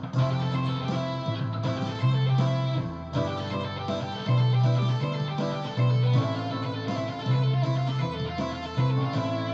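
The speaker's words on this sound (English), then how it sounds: "Now, if I did pentatonic, it would sound like this." A guitar plays a pentatonic scale line over a backing track with a pulsing bass pattern. Short melodic phrases repeat in a steady rhythm, with no voices.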